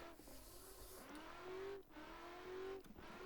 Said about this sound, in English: you just go full throttle again in this car